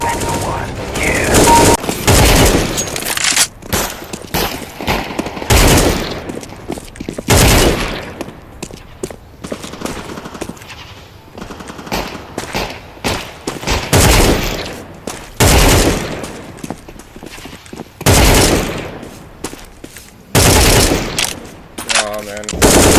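Rapid bursts of automatic gunfire from the Counter-Strike video game, loud and dense, repeating through nearly the whole stretch with short pauses between volleys; a voice speaks briefly over the shooting.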